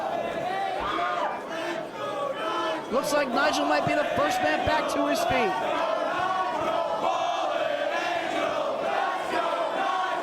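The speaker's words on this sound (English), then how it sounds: "Crowd seemingly split between both athletes here." A wrestling crowd cheers and roars through a championship match, loud and continuous, with bursts of shouting and stomping, while a commentator talks over the noise.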